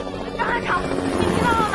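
A helicopter's rotor and engine drone steadily under a voice calling out, the whirring noise filling the short moment.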